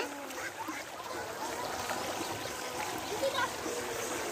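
Water runs through a fishing net set in a village stream, a steady close rushing wash that holds at an even level throughout.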